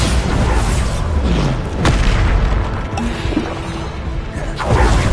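Spell explosions from Bombarda in Hogwarts Legacy burst out loud and booming, with a couple of sharp cracks and whooshes over a dense, continuous rumble of game combat.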